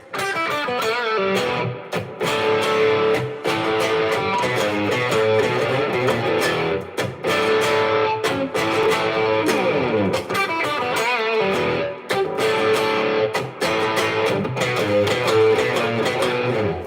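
Heavily distorted electric guitar plays chugging riffs with short pauses between phrases, loud and thick with overdrive.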